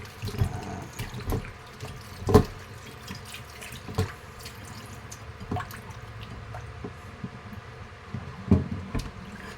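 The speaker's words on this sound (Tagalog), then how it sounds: "Ganon din itong mustasa, hugasan ng maigi." Mustard greens being washed under running tap water, a soft steady trickle in a sink with several louder splashes and clatters as the leaves are handled.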